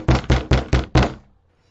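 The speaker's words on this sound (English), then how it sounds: "there was a bang on the back of my door." Five loud, heavy bangs strike the back of a door in a steady, forceful rhythm, close and booming, then fade into quiet.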